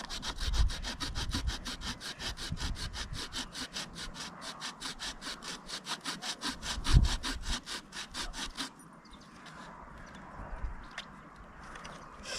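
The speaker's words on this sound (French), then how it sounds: "je vais couper un petit peu les branches à la scie pour les mettre à peu près à la taille du feu" Hand saw cutting through tree branches for a campfire, a fast, regular back-and-forth rasp of the blade close by for most of the stretch, then stopping, leaving quieter rustling and handling sounds.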